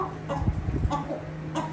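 Low, throaty clucks from a Kandhari rooster, a few short bursts spread across the moment, fairly close with a steady background hum.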